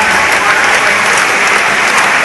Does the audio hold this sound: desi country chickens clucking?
no